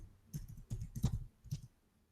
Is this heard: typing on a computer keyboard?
yes